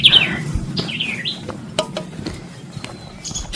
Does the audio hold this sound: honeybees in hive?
no